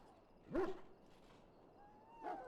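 A dog in Dragon Age: Origins gives a short whimpering yelp, then a fainter whine a moment later, both close and alone over quiet background.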